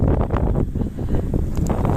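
Blizzard wind in Arctic frost near Labytnangi beyond the Arctic Circle, a steady loud roar of gusting air buffeting the microphone throughout, with no voices.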